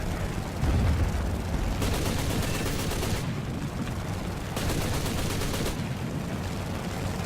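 Aircraft cannons firing in a WWII air combat video game, two sustained bursts of rapid, rattling shots over a constant rumbling engine drone, with no talking.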